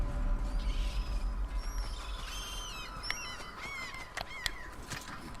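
A cart axle is hoisted during a repair in the God of War game, with a drawn-out creaking and squeaking of strained wood and metal over a steady low rumble, and no talking.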